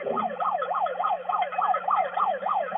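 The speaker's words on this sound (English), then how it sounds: "I'm not sure why the siren's going off." A siren at a basketball game wails in a fast, steady up-and-down yelp, loud and continuous throughout.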